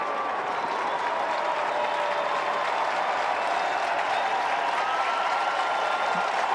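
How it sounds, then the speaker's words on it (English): Home crowd at a Syracuse versus Duke men's college lacrosse game giving a standing ovation, a broad sustained roar of clapping and cheering filling the arena at steady strength. "And a standing ovation from the home crowd."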